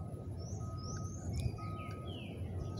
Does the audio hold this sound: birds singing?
yes